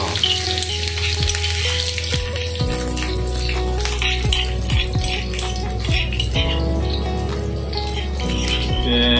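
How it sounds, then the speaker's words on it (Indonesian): Aromatics for an Iban-style spicy soy sauce snail dish sizzle and crackle steadily in hot oil, a loud continuous frying hiss with occasional stirring clinks throughout. "kita masukkan bahan tumis."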